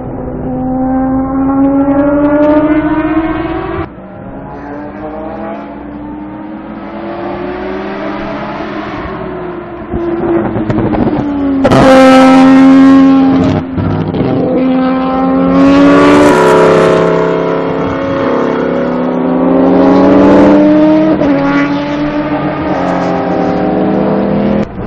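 Mazda GT race cars scream past at roughly 10,000 RPM during a Grand Am test day, loud continuous high-revving engines with rising and falling pitch as cars accelerate and pass, one overlapping another.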